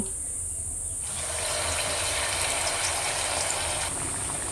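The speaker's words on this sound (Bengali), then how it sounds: "কড়াইয়ের মধ্যে বেশ কিছুটা তেল দিয়ে তেলটাও খুব সুন্দর কিন্তু গরম হয়ে গেছে এবার আমি এর মধ্যে আলুর যে বোলগুলো রেডি করে রেখেছিলাম সেগুলো দিয়ে দেব" Potato balls go into hot oil in a wok, and a bright, hissing sizzle bursts up suddenly, holds steady for a few seconds, then drops back to a quieter background.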